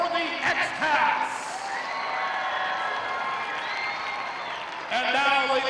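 A crowd at a regional robotics competition cheers and claps loudly, whoops and applause swelling over a steady roar, with a voice briefly heard at the start and end.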